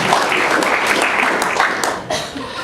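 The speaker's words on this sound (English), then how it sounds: "we should give him like a very, very, round of applause" Audience applause at a SciTech Cafe science talk, a steady wash of clapping from a room of people with a few scattered chuckles, sustained evenly before tapering slightly near the end.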